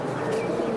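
Pigeons at a Bangladeshi pigeon market, including hammer, fantail and silver Giribaj breeds, coo softly with a low continuous murmur that stays fairly loud and steady throughout.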